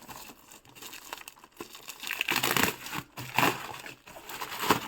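Plastic packaging bag on a parcel crinkling and rustling in irregular bursts during unboxing, growing louder and busier toward the end, close by with no talking.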